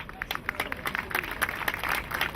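Scattered applause from an audience at an outdoor rally supporting Assyrians of Syria and Iraq, a loose patter of many hands clapping at moderate distance, uneven and fairly light.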